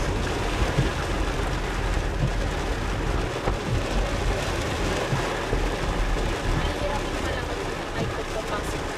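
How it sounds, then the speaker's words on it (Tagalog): Heavy rain pouring down suddenly, a dense, steady roar of loud downpour from start to finish, with voices talking faintly underneath. "Bigla namang lumakas ang ulan."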